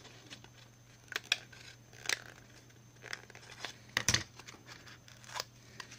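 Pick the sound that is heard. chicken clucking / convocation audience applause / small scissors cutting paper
small scissors cutting paper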